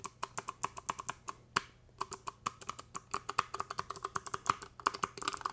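Typing on OpenAI's keyboard, a rapid irregular patter of crisp close key clicks with brief pauses between bursts, heard alone without talk.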